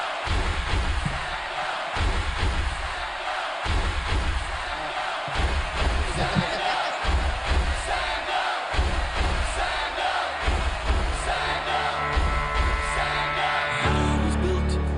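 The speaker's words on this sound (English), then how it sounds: "Clap now." A large audience at a legal summit claps and cheers loudly and continuously, with whoops and shouts rising over dense applause, while music starts up toward the end.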